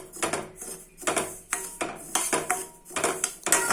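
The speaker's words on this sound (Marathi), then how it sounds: "तूप टाकता पहिले रवा असाच भाजून घ्यायचा" Semolina dry-roasting in a pan for sheera, stirred with a metal spoon that scrapes and clinks against the pan in quick repeated strokes, close and fairly loud, with no talking.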